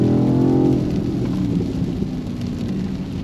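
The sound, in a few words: heavy rain while driving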